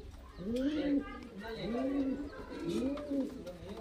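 Giribaz highflyer pigeons cooing at close range, three rounded, repeated coos in a rhythmic sequence, with some background chatter.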